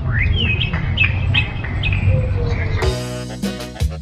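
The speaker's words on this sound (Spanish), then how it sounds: "exploremos el sonido de las aves." Birds chirping and singing outdoors in Santa Cruz de Yojoa, Honduras, with repeated short whistled calls, then a loud, harmonically rich squawking call near the end, clear and close over a low background rumble.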